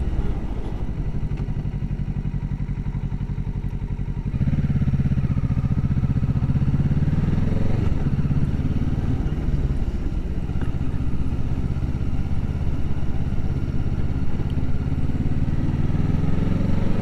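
A motorcycle engine drones steadily while riding, close and loud, with its pitch and load shifting around a gear change partway through.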